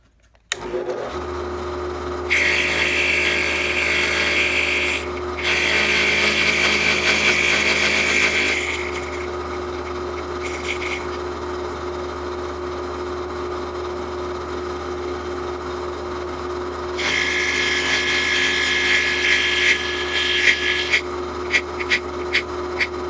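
A machine runs with a steady whine as a bespoke pen clip gets a small squaring cut on its end. Louder bursts of cutting noise come over the hum, with a few sharp ticks near the end.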